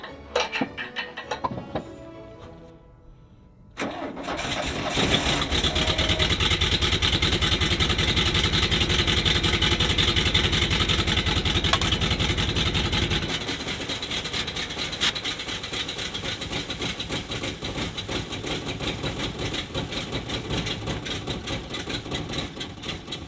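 Car engine idling while its exhaust is blocked by hand: a brief quiet stretch, then the motor settles into a loud, steady rumbling idle, with the tone shifting and thinning partway through as the exhaust is covered, no talking.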